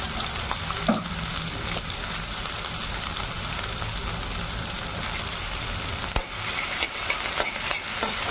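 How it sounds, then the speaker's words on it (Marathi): Green chillies and potatoes fry in oil for bhagar amti and are stirred, producing a constant busy sizzle with scraping stirs and a couple of sharper spoon knocks, close up and without voices. "तेलामध्ये छान तळू द्यायचं"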